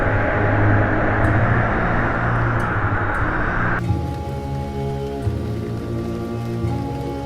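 Animated heavy rain pours steadily as a dense, loud hiss, then abruptly shifts to a thinner, quieter patter, with no voices over it; in the story it is an ominous rain of blood falling near a temple.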